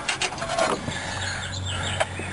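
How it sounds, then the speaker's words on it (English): A ratchet loosens the remaining bolts during car front suspension disassembly, giving quick clicking bursts near the start and a short clack later over a steady low hum, close by. "Now let's just take the rest of the bolts off. Here's the second bolt."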